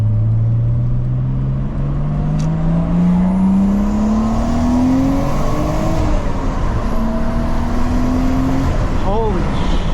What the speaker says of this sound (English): It's like there's nothing, and then once the turbo kicks in,